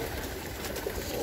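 Pigeons in a loft cooing softly, low murmuring calls blended into a steady, faint ambient rustle, with no talking.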